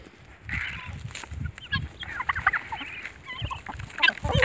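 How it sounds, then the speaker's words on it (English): A hen and her group of baby guinea fowl make soft clucks and high peeping chirps close by, scattered and irregular, with a small flock of birds calling over quiet background. "Right there's the group of baby guineas and the hen that run together."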